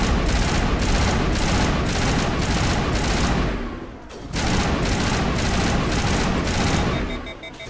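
Dense, sustained gunfire from new weapons in the video game Mass Effect, on a paradise planet level, loud and continuous with rapid repeated bursts, a brief lull near the middle before the shooting resumes.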